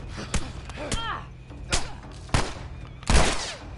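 Gunfire in The Last of Us, a few sharp reports spread irregularly, the loudest burst near the end, with thuds and a voice talking over the action.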